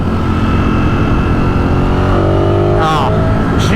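A 2023 Ducati Streetfighter V4S engine pulls steadily in fifth gear with a loud, continuous roar that climbs in pitch near the end, close and dominating.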